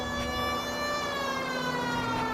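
A police car siren in the video game L.A. Noire blares as a loud, continuous tone with rich harmonics, holding a nearly steady pitch through the short stretch.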